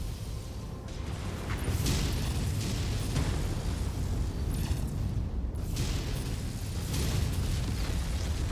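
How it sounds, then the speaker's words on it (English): A giant artillery gun blows up in MechWarrior 5, a sustained, loud, rumbling explosion with layered booms and crackling debris that fills the whole stretch without a break. "we're stopping and blowing that gun up now"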